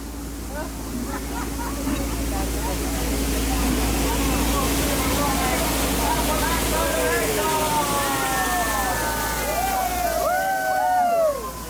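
Steady rushing water from a waterfall on Disneyland's Jungle Cruise ride at night roars continuously, with high whistling calls and chirps rising over it toward the end.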